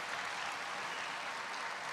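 Applause from an audience at a presidential speaking event on protecting seniors: a steady, dense wash of many hands clapping, sustained and even throughout.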